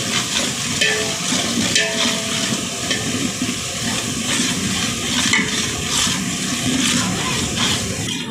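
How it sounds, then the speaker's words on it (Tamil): Green chillies and onions sauté in a pan for biryani, giving a continuous, fairly loud sizzle with irregular scraping and stirring throughout. "பச்சை மிளகாய், வெங்காயம் எல்லாத்தையும் போட வேண்டும். நன்றாக வதங்கவும்."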